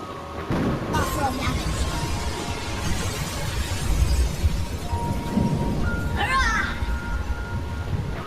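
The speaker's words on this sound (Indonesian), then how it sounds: "kekuatannya yang sangat dahsyat malah membuat kuil yang ada di sana hancur berkeping-keping" A temple shatters to pieces in a film sound effect, a dense roaring rumble of crumbling stone with crashing debris throughout and a brief bright shattering burst near the end.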